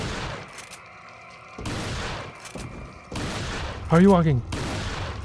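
Gunshots ring out in Resident Evil 4 on the Wii, several loud separate blasts with echoing tails spaced about a second apart, and a player's voice briefly talking between them.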